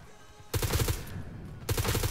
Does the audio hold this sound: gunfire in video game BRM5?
yes